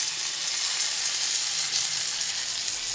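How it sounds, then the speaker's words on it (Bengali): Water is poured into fried spices in a hot pan, sending up a loud, steady, close hiss of sizzling and steam that holds evenly throughout. "জল দিয়ে দিব।"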